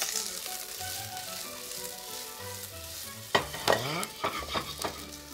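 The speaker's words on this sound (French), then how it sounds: "je vais faire revenir mon oignon avec un peu d'huile d'olive là" Onion softening in olive oil in a pan, with a soft sizzle under a low musical background, then several sharp scraping stirs of a utensil against the pan in the closing seconds.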